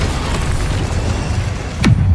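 A fire spell bursts into a short whooshing boom near the end, cast amid steady game sounds and battle noise in Hogwarts Legacy.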